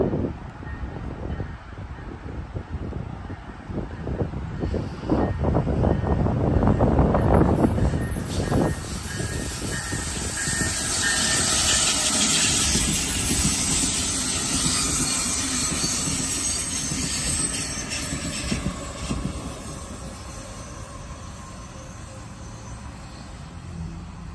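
A Brightline train rumbles past close by at Dania Beach, Florida, swelling to a loud roar with high metallic wheel squeal, then slowly fading as it moves away.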